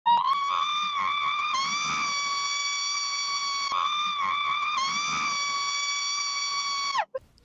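A woman's long, shrill, sustained scream rings out loud and close, held almost unbroken for about seven seconds with a brief catch for breath midway before cutting off.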